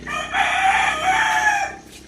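A single loud rooster crow, drawn out for about two seconds, close by.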